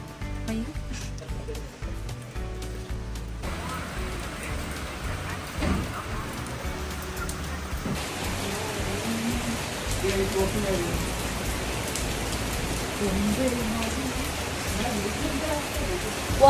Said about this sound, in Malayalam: ഇപ്പോൾ ഇവിടെ വീണ്ടും മഴ പെയ്തു തുടങ്ങി.